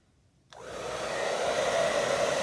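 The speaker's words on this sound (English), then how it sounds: "go ahead and hit it with a blow dryer" A blow dryer switches on abruptly after a brief quiet moment and then runs as a constant, steady whoosh while drying a layer of coffee paint.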